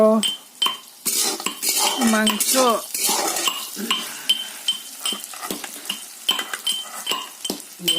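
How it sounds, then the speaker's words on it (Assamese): Ginger and garlic pounded in a mortar for a spicy roti-and-meat meal, heard as a busy run of sharp, close metallic knocks and clinks at an irregular rhythm, with no talking. "আদা নহৰু খুন্দি আছোঁ"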